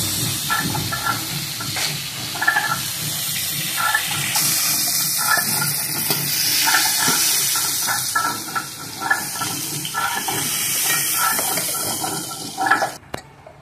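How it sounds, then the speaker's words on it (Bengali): Cut potatoes frying in hot oil for a Bengali shrimp and pointed-gourd dolma, a steady close hiss and bubbling crackle with faint clinks, continuing without talk until a sharp knock near the end. "এবার আমি আলুগুলো ভেজে নিচ্ছি।"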